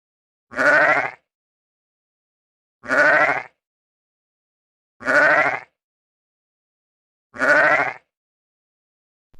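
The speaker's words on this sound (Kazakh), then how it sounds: "қой" A sheep bleats four times in evenly spaced, close, loud calls, each a wavering, nasal cry with silence between them and no talking.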